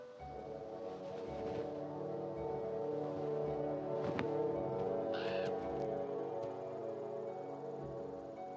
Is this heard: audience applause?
no